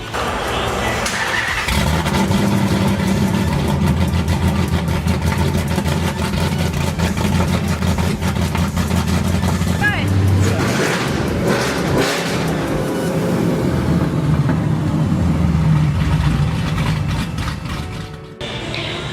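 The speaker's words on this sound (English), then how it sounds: "we'll start it up and see how it sounds with no mufflers" Race car engine with straight pipes and no mufflers, started up and running loud and raw, a harsh rumbling idle with rising and falling revs, close by in a garage.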